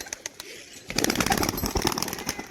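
Crested pigeons flap their wings in a sudden close flurry after a nearly quiet start, with several quick, loud beats overlapping for about a second and a half.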